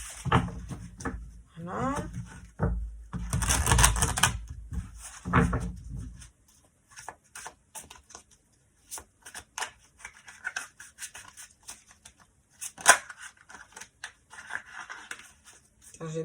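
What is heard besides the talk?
shuffling tarot cards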